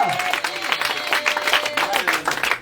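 A church congregation at a deliverance and healing prayer service applauds and cheers loudly and continuously, dense clapping mixed with shouting voices throughout.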